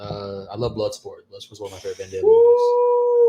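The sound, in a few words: dog howling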